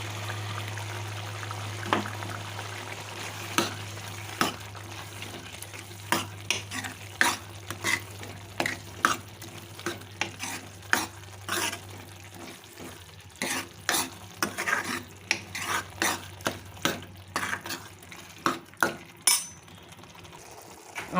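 Crumbled paneer bhurji sizzling in a pan while a spoon stirs it in repeated scraping strokes, a steady frying hiss underneath for the first half before the clatter of stirring dominates, close and alone without talk.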